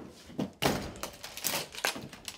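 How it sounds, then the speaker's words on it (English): A door thuds and bangs open during a heated domestic argument, a sharp impact followed by rattling knocks and movement, fairly close. "Open the goddamn door"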